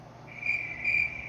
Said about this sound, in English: Yes, crickets.